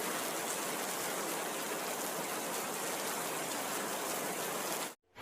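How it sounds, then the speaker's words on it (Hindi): Heavy rain pouring steadily, a dense even wash of noise for about five seconds before it cuts off abruptly, with no voices. "बारिश तेजी से बरस रही थी, रुकने का नाम नहीं ले रही थी।"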